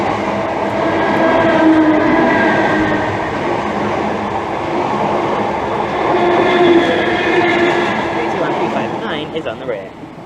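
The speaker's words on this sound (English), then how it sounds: "now passing by is 5 Foxtrot 96, the 1113 Greater Anglia service from London Liverpool Street to Colchester Carriage Stabling Depot." A Greater Anglia class 321 electric multiple unit passes Bethnal Green station on the London Liverpool Street line, a loud, close, steady rumble and whine with rail noise that eases toward the end.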